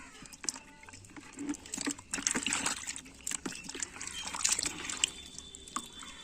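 Fish is rinsed by hand in warm water close by, with steady trickling, dripping and small sloshes that come in uneven splashes.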